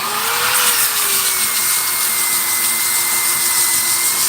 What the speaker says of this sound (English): it looks much better being power sanded than sanded traditionally on the lathe